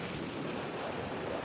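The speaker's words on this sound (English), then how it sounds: "the waves are incredible today and so loud" Ocean waves roll onto a beach at sunrise in a steady, dense wash of surf noise with some wind rumble, heard close and continuous with no voices.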